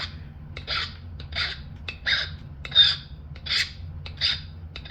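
Edge of a thin rootbeer chert flake being sharpened, a rhythmic series of about a dozen short gritty scraping strokes, close and distinct over a faint low hum.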